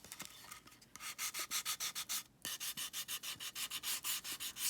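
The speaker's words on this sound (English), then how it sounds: "I just wanted to give it a little distressing" Sandpaper rubbing along the edges of a wooden piece to distress its finish, heard as a steady series of quick rhythmic back-and-forth strokes, close and fairly loud, with a brief pause midway.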